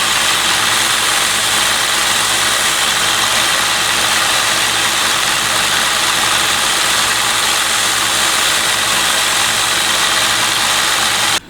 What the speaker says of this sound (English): I'm just going to freehand it here now on the 1x30.